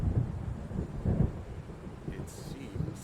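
Thunder rumbles through a stormy nighttime scene in the video game Alan Wake, low rolling booms with hiss of rain and wind, a muffled voice talking underneath.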